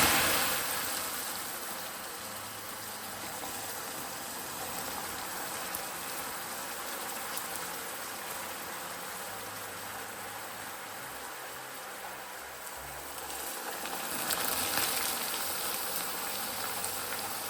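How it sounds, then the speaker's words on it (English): Boiling water poured into hot burnt sugar in a pan sets off a steady, fairly quiet hissing sizzle and bubbling that runs on without pause, with no voices over it. "It's about time to add the 8 ounces of boiling water to the sugar"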